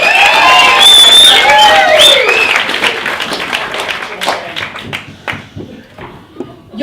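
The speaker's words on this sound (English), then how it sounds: "Give me a round of applause." Wedding guests at the speeches applaud and cheer with whoops and shouts, loud at first, then the clapping thins out into scattered claps as it fades.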